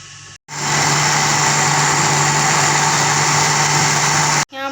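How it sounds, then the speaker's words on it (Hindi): Electric blender grinding a banana milkshake made with milk, a loud steady motor whir running continuously for about four seconds, starting and stopping abruptly, with no talking. "अब अच्छे तरीके से इसको मैं ग्राइंड करूँगी"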